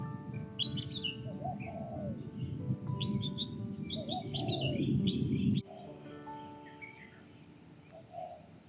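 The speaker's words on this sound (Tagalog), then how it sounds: "maririnig ninyo guys ang nature sound, mga ng ibon" Birds sing and chirp at a pond at sunrise, with short warbling calls over a constant high insect-like trill and low background rumble that drops away partway through, leaving quieter scattered calls.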